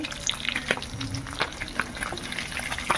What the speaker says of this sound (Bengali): এখানে ভাজছি